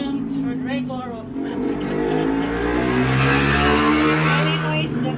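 A motor engine revs up near and loud, its pitch sliding upward and holding in a sustained roar, with a person talking over the start.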